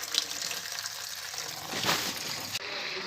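Dirty taro leaves being washed in a bucket of water splash and slosh close by, a brief busy rush of churning water with one louder surge partway through.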